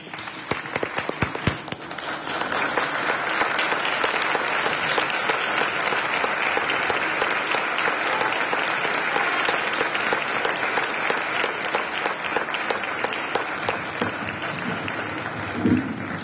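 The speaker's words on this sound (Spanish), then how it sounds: "Recibámoslo nuevamente con un fuerte aplauso." Concert audience breaks into dense, sustained applause after a brief scattered start, clapping steadily and loudly for the rest of the stretch with no voices over it.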